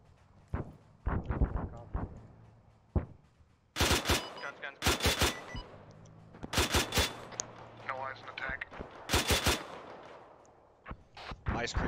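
Automatic weapons fire at an Mi-24 helicopter in the ARMA III military simulation: loud, rapid bursts and single shots repeat in clusters, with voices speaking in between.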